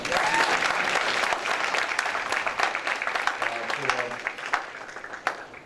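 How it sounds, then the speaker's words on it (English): An audience claps loudly and continuously for the chairman of the People's Organization for Progress in Newark, New Jersey, the applause thinning out gradually toward the end with a few scattered final claps. "give the chairman of the People's Organization for Progress a round of applause"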